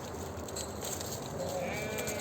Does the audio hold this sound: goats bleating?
yes